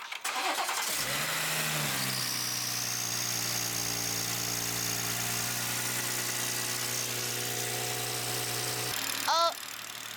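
Car engine after a fuel pump swap cranks briefly, then catches and settles into a steady, loud idle with an even mechanical hum lasting several seconds, ending in a short rising whine.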